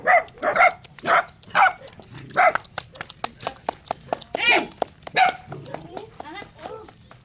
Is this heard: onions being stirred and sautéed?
no